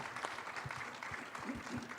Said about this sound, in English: you can give her a nice round of applause.